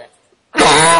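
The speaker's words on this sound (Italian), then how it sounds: "mi è partito il colpo di tosse" A sudden, loud, harsh cough bursts out after near silence from someone speaking live in Italian during a linked broadcast, filling the end of the moment with a raspy throat-clearing rasp.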